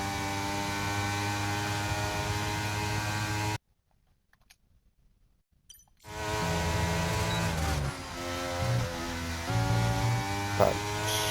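Formula 1 racing car engine in the video game F1 23 during qualifying at Portugal, a sustained high buzzing whine that cuts out to near silence for a couple of seconds, then returns loud and shifting in pitch.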